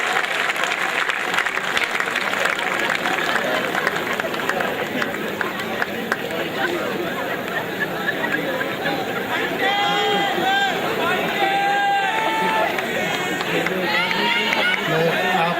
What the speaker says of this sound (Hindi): बहुत जोरदार तालियों के साथ में स्वागत करिए